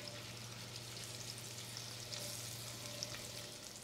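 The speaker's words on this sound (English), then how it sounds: "when the oil has heated up, let's add these amazing paneer." Paneer cubes fry in two to three tablespoons of hot cooking oil, a steady close sizzle with soft crackles over a low constant kitchen hum.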